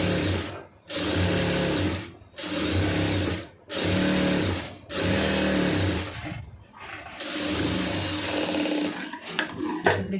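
A sewing machine stitches poonam saree fabric in several short, loud bursts separated by brief pauses, then runs longer and ends in a few sharp clicks.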